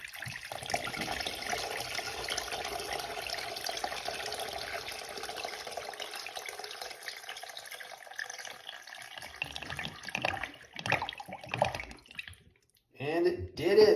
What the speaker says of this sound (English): Flush number 4.